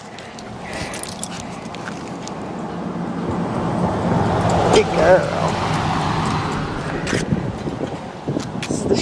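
A car passing on a road near the Shearwater Bridge and small craft harbor, a broad swelling roar that peaks mid-clip amid wind and steady outdoor noise, with someone speaking briefly to a dog.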